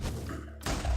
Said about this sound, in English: That's a large explosion.